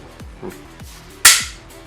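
A few light plastic clicks and slides as a toy pistol reloads, then one sharp, loud snap of it firing, close by.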